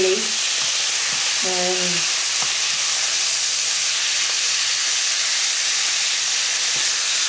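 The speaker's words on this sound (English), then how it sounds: "I'm cooking my fish, and then I'm going to stir a little bit so it cooks thoroughly" Rainbow trout sizzles steadily in a hot pan, a loud continuous frying hiss with faint scrapes of stirring, and a voice briefly speaks near the start.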